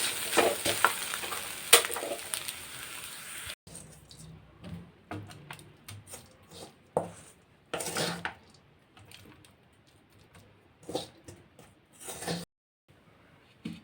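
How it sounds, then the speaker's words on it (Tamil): Spinach and egg stir-fry scraped and spooned from a pan onto a plate, with a run of clinks, metal scrapes and taps against cookware, a louder sizzling clatter at first, then scattered close knocks and a few pauses. "அவ்வளோதாங்க நம்ம கீரையும் முட்டையும் நல்லா வெந்து வந்துருச்சு இப்போ இதை நம்ம வந்து ஒரு பிளேட்டில் ட்ரான்ஸ்ஃபர் பண்ணிக்கலாம்"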